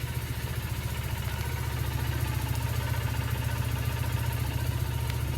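Carbureted Triumph Bonneville motorcycle engine idling while warming up its oil, a steady, rapid low-pitched pulsing thrum, fairly faint, with no talking.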